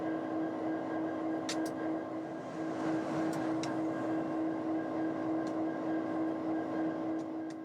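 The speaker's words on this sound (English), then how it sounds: "The northbound turns out to be another UP freight, a merchandise freight chasing the last light from the overcast sky." A Union Pacific merchandise freight train rolls past on Colorado's Joint Line under an overcast evening sky, a steady, loud rumble with a sustained low drone and a few faint metallic squeals and clanks.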